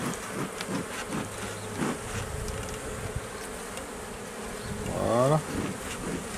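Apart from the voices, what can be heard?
honey bees buzzing during a hive inspection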